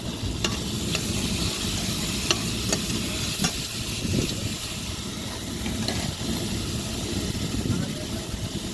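Ridge gourd thokku with tomato and salt being stirred in a frying pan, a steady sizzle with scraping stirs and occasional clinks throughout, close and continuous.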